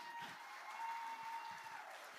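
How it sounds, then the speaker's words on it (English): A crowd at a benefit concert applauds faintly and from a distance, a soft, even patter of clapping with a steady tone running beneath it. "Let's give her a round of applause."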